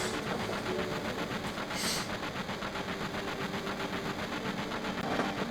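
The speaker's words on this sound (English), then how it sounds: "Last train out of Sector 8 station." Train running in the video game Final Fantasy 7, a steady rumbling engine drone with rhythmic rolling clatter and a brief hiss partway through, continuous and fairly loud.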